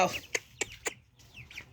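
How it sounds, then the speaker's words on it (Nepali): Several chickens cluck close by in short, sharp bursts, a few spaced calls followed by softer chatter. "यो कुखुरा यिनीहरू थुनेर भित्र जानुपर्छ"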